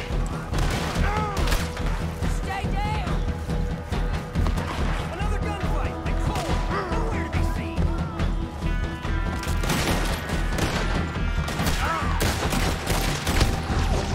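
Repeated gunshots in a Red Dead Redemption 2 firefight, with pistols among the weapons: sharp cracks in an irregular rhythm over continuous battle noise and music, with voices mixed in.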